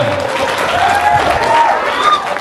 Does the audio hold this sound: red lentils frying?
no